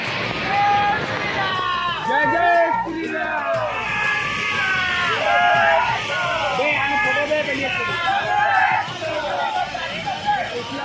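A large, dense crowd at Jatmai Mata temple fills the space with loud overlapping shouts, yells and babble, continuous and close throughout.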